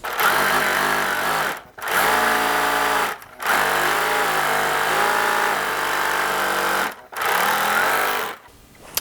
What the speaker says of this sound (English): So I'm gonna serge my back seam.